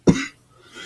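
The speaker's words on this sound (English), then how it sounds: "I'm sorry about this cough." A single sharp cough from a man, close and loud, cut off quickly and followed by near silence.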